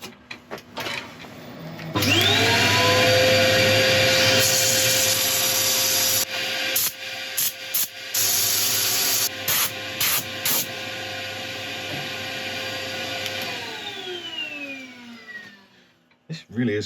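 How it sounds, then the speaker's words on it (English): Sanding a turned grass tree root on a wood lathe: the lathe spins up and runs with a steady whirring hum and a loud rubbing hiss from the abrasive, broken by brief pauses, then winds down near the end. "So I'll get ready for sanding."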